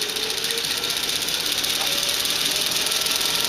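Lego 3-speed automatic transmission running and being sped up, giving a steady mechanical whir with a fast rattling ticking texture throughout, fairly loud and close with no talk.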